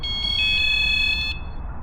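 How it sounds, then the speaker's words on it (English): Vanguardian motorhome alarm sensors chirp in a quick series of short, bright, high beeps while being paired, close and clear over a steady low rumble of background noise. "and then they all beep"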